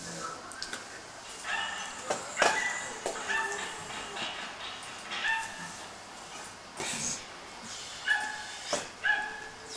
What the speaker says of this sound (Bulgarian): Това не е ли кучето й?